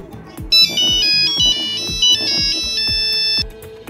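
A mobile phone ringtone plays a bright, repeating electronic melody, loud and close, with regular rhythmic beats and no talking, as heard in a Bangla kidnapping drama.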